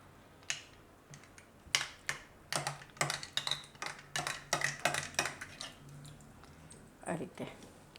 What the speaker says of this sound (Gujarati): ચમચીથી મિક્સ કરી લેવાનું.